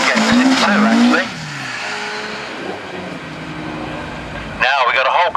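A rally car at Rallye Prescott 2025 screams through a corner with a brief squeal of tyres, then drops a gear and fades to a lower engine note, with a commentator talking over the start and end.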